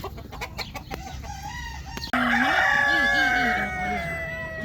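Chickens on a farm in Al Khor, Qatar, give a few quick clucks, then a rooster's loud, close crow with a long drawn-out tail, with other birds calling faintly behind.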